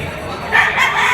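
A yellow-legged, straight-combed bandirado rooster at a livestock market in Padre Garcia, Batangas, gives a brief crow amid nearby market ambience.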